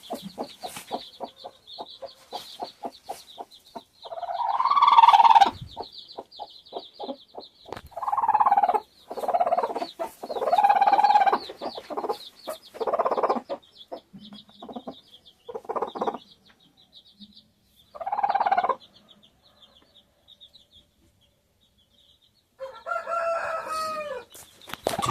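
Medak breed chickens in Telangana cluck and crow close by, with loud bursts of crowing and cackling between quieter stretches of soft clucking over about twenty-five seconds.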